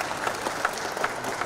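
A crowd applauds briefly at an Indonesian government session on the West Papua provincial budget, a short burst of steady clapping with no speech.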